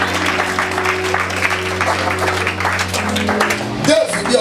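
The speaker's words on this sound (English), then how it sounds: "Give the Lord a mighty clap of hands." A church congregation at a prayer and fasting service claps hands together while a sustained organ or keyboard chord hums underneath; the clapping is dense and continuous, and a voice cuts in near the end.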